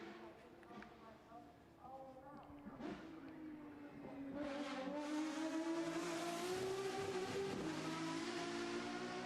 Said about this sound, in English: This leverages the same V12 that you would find in the Aventador